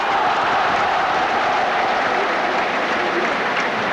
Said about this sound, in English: Gets a round of applause, but it was very well struck by Steve Sumner.